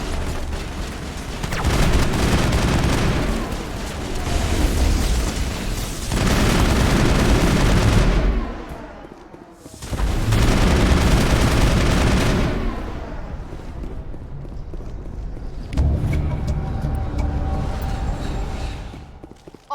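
Dense gunfire and booming blasts fill a Mass Effect firefight on Virmire, with sustained loud volleys, brief lulls, and repeated heavy bursts through the stretch.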